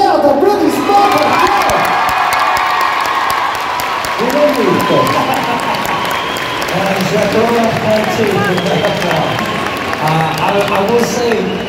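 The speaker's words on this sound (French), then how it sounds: "s'il vous plaît, faites encore un tonnerre d'applaudissements" Crowd at the Paris Manga 2024 convention cheering and applauding in a sustained, loud roar, with whoops and shouting mixed in and voices talking throughout.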